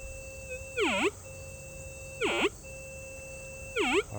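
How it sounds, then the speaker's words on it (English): A White's TDI SL metal detector sounds three short, distinct tones about every one and a half seconds, each a quick swooping beep that dips in pitch and rises again, over a steady faint background hum. "Now I should get a low tone instead of a high tone now."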